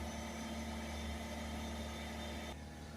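A Citroën C4 1.6 BlueHDi diesel engine runs at a steady held idle during a DPF flush, a constant low drone that drops slightly in level near the end.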